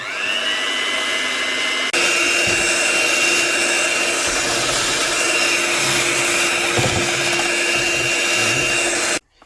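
Bread dough being mixed by an electric stand mixer, a loud steady motor whine that starts abruptly, holds constant with faint thumps, then cuts off near the end.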